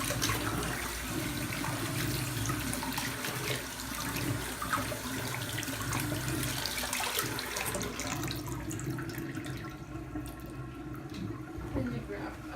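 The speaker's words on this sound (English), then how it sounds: "Just rinse him off a little." Water runs steadily from a tap to rinse a ferret during a bath, a continuous close splashing flow that eases slightly toward the end.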